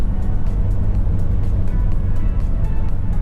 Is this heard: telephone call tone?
no